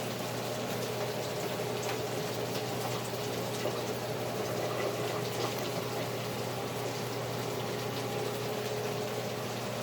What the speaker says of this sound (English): You take and drain the mushrooms.